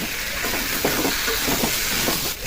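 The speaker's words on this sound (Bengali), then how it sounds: "এখন ভেজে রাখা আলুগুলো দিয়ে দেবো এই আলুর সাথে মাংসটাকে একটু কষিয়ে নেবো" Fried potatoes tossed into a pan of browning mutton curry give off a steady, close, hissing sizzle that holds throughout, with a few faint stirring knocks.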